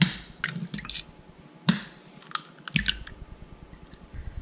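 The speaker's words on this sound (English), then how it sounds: "Now let's crack in our two eggs." Two eggs cracked into chocolate chip cookie dough in a stand mixer bowl fitted with a paddle attachment, giving a few sharp, close taps and soft wet cracks spread through an otherwise quiet stretch.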